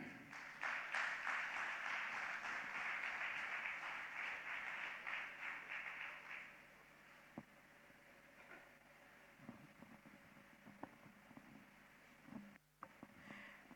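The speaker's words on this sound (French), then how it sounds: "Nous allons applaudir une fois de plus" A lecture audience applauds after a talk, clapping loud and dense for about six seconds before thinning into scattered faint claps and room noise.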